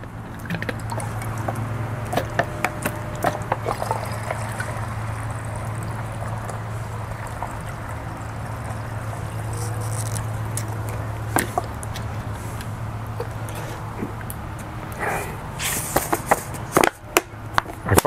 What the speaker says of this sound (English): obviously the water is flowing through